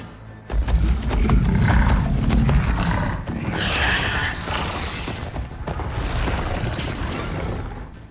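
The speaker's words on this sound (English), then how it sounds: "They're riding machines! Where'd they learn to do that?" Riders on machine mounts in the video game Horizon Forbidden West: loud roaring, creaking mechanical growls and clanks that rise and fall continuously, dense and close with no speech.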